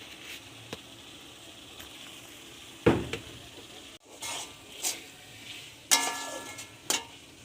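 Spice masala for a stingray fish curry sizzles softly in hot oil in a pan. A few sharp stirring scrapes and splutters rise over the quiet, continuous frying.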